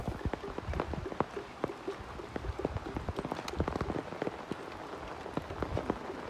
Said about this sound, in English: Too much rain a fall.